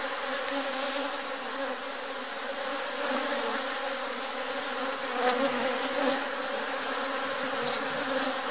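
Honey bees buzz steadily at an apiary hive during a colony split, a dense, continuous drone close by with no speech.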